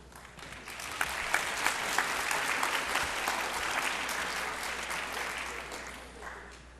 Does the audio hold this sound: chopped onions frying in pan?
no